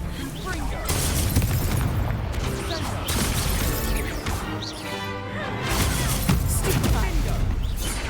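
Repeated Confringo spell blasts in Hogwarts Legacy, crashing explosive impacts during a fight, loud and sustained with overlapping bursts, a speaker casting spells over the action.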